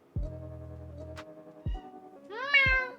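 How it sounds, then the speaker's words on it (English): A house cat gives two or three short, clear meows indoors, the last one rising and brighter, close to the listener in a quiet room. "That's a meow for the counter."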